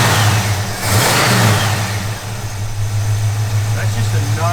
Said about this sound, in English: It's good running little small block,